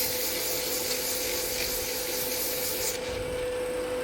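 A wooden egg cup sanded by hand with 150 grit sandpaper, a continuous close scratchy rubbing that holds steady and thins slightly toward the end, no voices.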